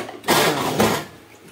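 A sewing machine stitches in two short bursts, a close whirring buzz with a brief pause between runs, with quieter room sound around them.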